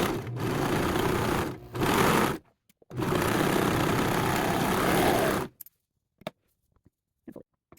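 Sewing machine stitching a pocket onto a pair of joggers, running in two loud bursts of steady motor hum and needle chatter separated by a short pause, then stopping, with a few faint clicks and rustles afterward.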